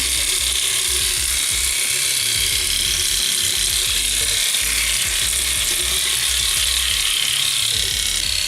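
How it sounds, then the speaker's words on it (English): A Philips S1332 Series 1000 cordless shaver's trimmer runs steadily while being rinsed under water, giving a continuous close whirring buzz mixed with a broad hiss of running water. "The trimmer is now on, and I'm washing the trimmer."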